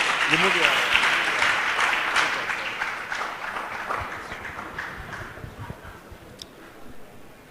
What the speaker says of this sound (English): clap for your colleague, clap for your colleague